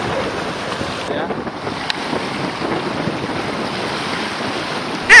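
Strong wind roars steadily across a microphone on a small robot boat at sea, with waves and water rushing underneath; the buffeting stays constant and loud throughout, with a sharp bump at the very end.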